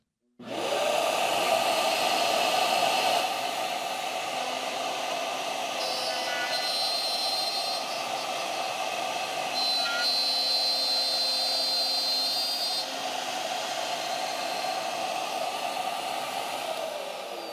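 A Shaper Origin handheld CNC router cuts a mortise in wood with a steady high-pitched spindle whine and a cutting roar. The sound starts abruptly and holds for over fifteen seconds, close and continuous, with faint shifts in pitch.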